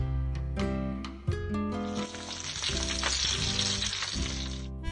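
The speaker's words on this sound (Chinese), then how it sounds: "刷上薄薄一层油就可以煎鸡肉了。" Chicken sizzles and crackles in a pan brushed with a thin layer of oil, a loud, continuous frying hiss with a sharp burst partway through, heard under background music.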